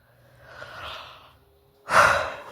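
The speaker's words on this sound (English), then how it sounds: "Now, see, I don't know why I start yawning" A person yawns with a drawn-out breathy inhale, then a louder open-mouthed exhale or sigh at the end, close and alone with no talk.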